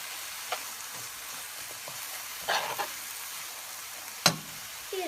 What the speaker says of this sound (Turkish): Üzerine şöyle bir tatlı kaşığı tarçın ilave edelim. Ve tekrar karıştıralım.